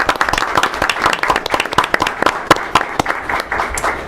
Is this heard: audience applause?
yes